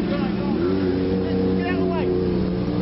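Endurance race car, the number 12 machine, pulling into the pits at Anglesey, its engine droning loud and close with a shifting pitch while a commentator talks over it.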